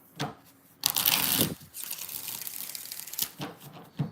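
Tarot cards being shuffled by hand, several quick riffling and rustling bursts separated by short pauses, close and moderately loud, with no talking.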